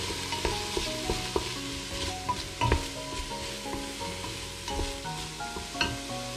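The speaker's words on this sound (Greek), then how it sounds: "Στη συνέχεια ρίχνουμε να τσιγαρίσουμε κρεμμύδι, σκόρδο και πιπεριά." Onion, garlic and pepper sautéing in a pot for a Greek braised meat with orzo dish, a constant loud sizzle broken by several clacks of stirring, with no speech.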